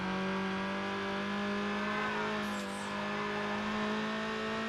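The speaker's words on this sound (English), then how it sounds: "this car with all its noise and all the rest of it" A Need for Speed Underground video game car engine hums at a steady pitch throughout, a continuous smooth drone with a slight rise and dip midway.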